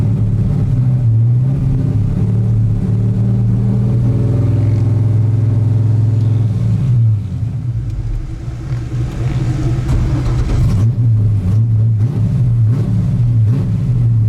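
An LS-swapped Mazda Miata running after a restart that cleared a throttle body fault, its loud close V8 idle rumbling steadily with a brief dip and swell in revs midway.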